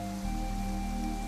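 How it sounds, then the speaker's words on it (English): Rain patters and splashes steadily against windows. It forms a continuous, even wash behind a low hum, with no voices. "the rain splashed and pattered against the windows"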